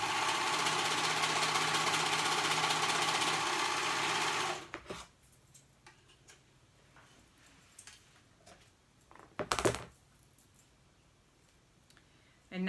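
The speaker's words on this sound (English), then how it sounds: "at the short edge, I'm going to sew those two ends together to make one continuous band" Sewing machine stitches the short ends of a skirt waistband into one continuous band, a steady loud whir for about four and a half seconds, then stops, followed by quiet handling clicks and rustles.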